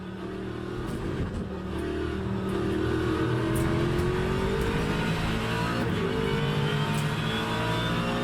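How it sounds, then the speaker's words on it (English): A Ford Mustang race car roars around Monza in the Le Mans Ultimate racing game, engine note climbing and shifting through gears, loud and close, with faint tire squeal and other cars, no talking. "I raced the Ford Mustang, and the roaring engine sound is truly impressive."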